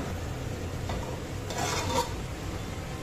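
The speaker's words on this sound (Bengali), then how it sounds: "এখানে আলু ভেজে নিচ্ছি" A steady, close hiss of potatoes frying in a pan fills the clip, with a few stirring scrapes and no talking.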